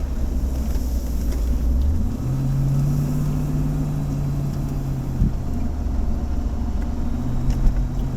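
A 1988 Range Rover with a ZF gearbox drives along, its engine a steady low drone with a rising tone as it shifts, interior road noise constant throughout with no talk.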